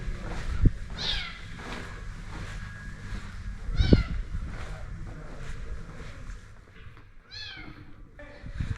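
A small kitten mews several times near Ostuni, Italy, thin high cries spaced a few seconds apart, over wind and faint outdoor rumble.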